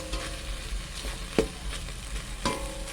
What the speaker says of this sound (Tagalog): So, hintayin po natin medyo maluto yung ating hotdog.